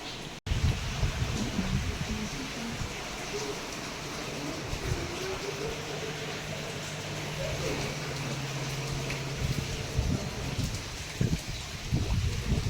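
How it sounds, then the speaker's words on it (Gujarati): Rain falls steadily in a village setting, a continuous near wash of drops with a few louder patters and knocks. The rain holds an even level and no one speaks. "અને તમને વરસાદ બતાવું જો"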